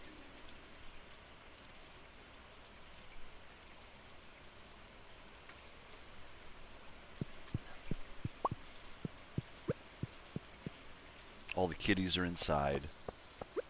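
Steady rain patters on a rainy day in the Stardew Valley farming game, a soft continuous hiss with scattered drips and clicks, while a person talks over it and the tapping grows busier near the end.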